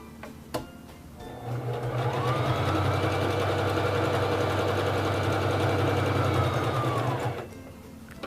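A Singer 3333 sewing machine runs at a long stitch length, a steady whirring mechanical hum with a rapid stitching rhythm lasting about five seconds before winding down, close and alone.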